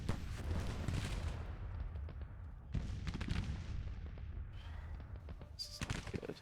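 Artillery battery fire in a Civil War video game: heavy booming cannon blasts and rolling gunfire at a distance, repeated bursts with lingering rumble, no voices.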